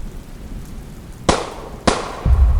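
Two sharp, loud pistol shots about half a second apart, each with a short echoing tail, followed by a low rumbling thud.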